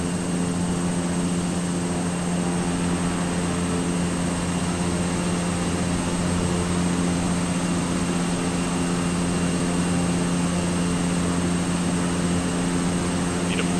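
A propeller-driven plane in a flight simulation game droning loudly and steadily from close by, a constant engine hum with no let-up and no talk over it.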